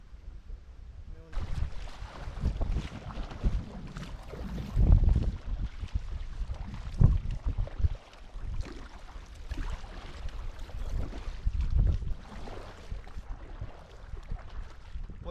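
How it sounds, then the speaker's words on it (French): Strong wind gusts buffet the microphone in the middle of the Loire river, the rushing rising and falling in loud bursts with faint water sounds beneath. "Au milieu de la Loire, des grandes rafales de vent."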